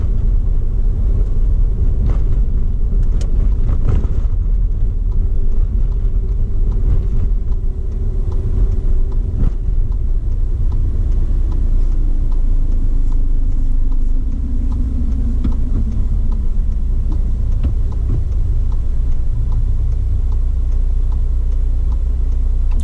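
A car is driven along a road, heard from inside as a steady low engine rumble and road noise, loud and continuous, with a faint rising engine tone in the middle and no talk.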